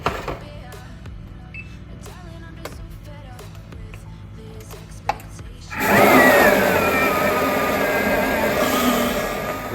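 Butter and sugar are beaten until creamy for a Sri Lankan kaal vanies batter. Light clinks and taps come first, then a loud, steady electric mixer whirs continuously for several seconds.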